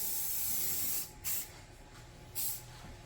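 Aerosol spray paint laid in a soft light coat on a 2018 Toyota Sequoia during a blackout kit job, a quiet steady hiss that stops, then two short further bursts.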